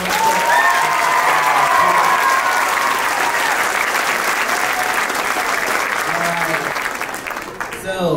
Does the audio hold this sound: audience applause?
yes